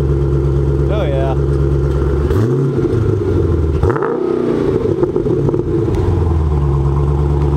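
A car engine runs loudly close by, idling with a deep drone and revving twice in rising and falling swells. A voice talks over it.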